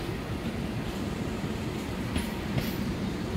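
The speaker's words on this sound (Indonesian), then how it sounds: "Jalur 7 Bogowonto masuk jalur 4 Argo Muria berangkat." The Bogowonto and Argo Muria trains roll through a busy Jakarta station, a steady, loud rumble of wheels and carriages that fills the whole moment.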